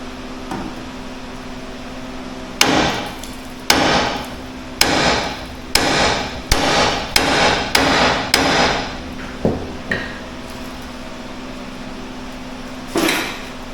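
About ten sharp, ringing metal hammer blows on a pickle fork during a Ford F-150 control arm replacement, struck close by in a rough rhythm, then a pause before one last strike over a low background hum.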